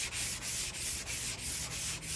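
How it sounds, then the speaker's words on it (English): Steady rhythmic sanding of a rusty car body panel, a gritty abrasive rub repeating in regular diagonal back-and-forth strokes, close and even, with no voices. "want to sand diagonally, just like so."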